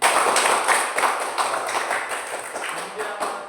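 A classroom group claps together in a quick, even patter for several seconds, loud at first and tapering slightly, with a voice faintly present underneath.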